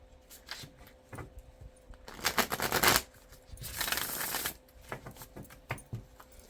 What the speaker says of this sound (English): That wasn't a very good shuffle